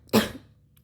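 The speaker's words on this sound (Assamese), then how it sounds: "মোৰ কাহ হৈ আছে" A single short, sharp cough, close and alone, with a brief tail that fades.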